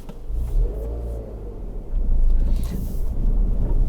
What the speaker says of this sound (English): Now that we're behind the wheel of the Mini Cooper, why don't we just take it for a drive?